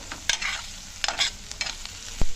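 A spoon stirs onions with red chilli powder and turmeric in a hot pan, giving irregular scraping strokes over a soft sizzle, with a sharp knock near the end.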